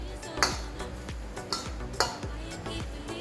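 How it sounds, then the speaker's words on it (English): Saltfish fritter batter stirred in a container, a utensil scraping and clinking against the sides in an irregular rhythm with a few sharper knocks, close and moderately loud, no talking. "Just gonna stir it around."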